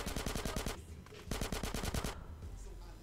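Rapid automatic gunfire in Grand Theft Auto: San Andreas, two loud bursts of fast repeated shots separated by a short pause, with a rumbling tail after the second burst.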